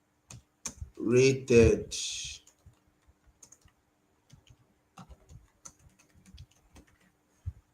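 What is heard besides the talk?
typing a name on a computer keyboard in Figma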